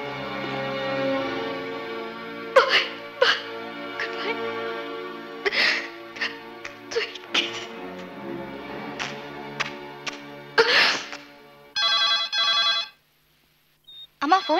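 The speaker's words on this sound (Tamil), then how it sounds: "அம்மா போன் அடிக்குது." A telephone ringing in a 1998 Tamil film scene, with a repeated tonal ring sounding in bursts through a musical, tonal backdrop, near and fairly loud before cutting to silence.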